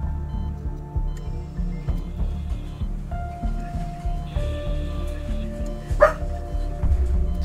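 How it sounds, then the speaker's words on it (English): A dog barks repeatedly in short, rhythmic bursts close by in the game Solo Leveling Arise, with a steady low hum and some other sounds mixed in underneath. "You still barking?"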